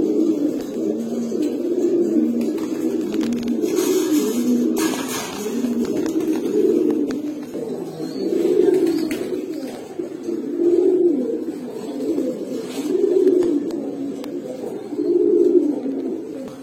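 A pair of Pankhi pigeons coos steadily in repeated rolling phrases, close and fairly loud, with faint background clatter and no talking.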